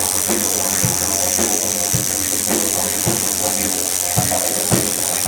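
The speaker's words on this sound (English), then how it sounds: "Look at that rattle go." A timber rattlesnake rattling its tail near a tight hole at the base of a tree, a continuous buzzing rattle that stays close and fairly loud, overlaid by a series of irregular clicks and knocks, with a person talking at times.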